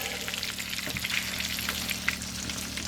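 Pork chop frying in hot oil for country fried pork chops, a dense, steady crackling sizzle up close with scattered sharper pops throughout.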